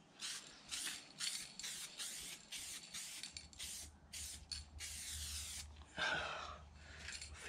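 Spray gun applying base coat over repaired rusty car bodywork, a series of close, loud hissing bursts in quick succession with short gaps, followed by a longer continuous spray near the end.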